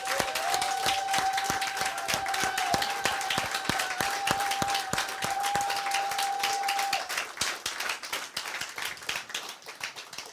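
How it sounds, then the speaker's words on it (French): A church congregation applauds loudly and steadily, dense clapping continuing for about seven seconds before thinning slightly, with a sustained tone and a few voices underneath. "Est-ce que tu peux encore l'acclamer très très fort?"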